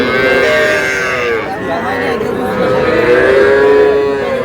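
A young bull at a rural cattle market moos loudly and close, a long drawn-out bellow swelling and dipping over a few seconds.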